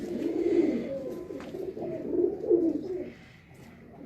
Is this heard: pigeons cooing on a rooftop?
yes